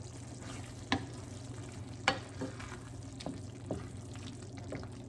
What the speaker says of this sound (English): I left this, as you can see, just simmering low.